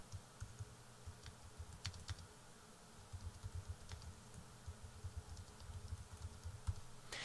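Quiet keyboard typing on a computer while entering text into a document, a steady run of light clicking keystrokes with brief pauses, no voices.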